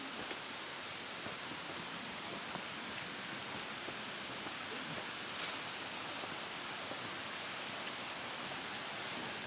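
Henrok waterfall in Thailand, heard as a steady, faint broadband rush of falling water that holds evenly throughout with no voices over it.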